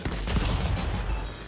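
Gunfire from the Stick Fight video game: a dense, continuous burst of loud rapid shots lasting throughout, with no speech over it.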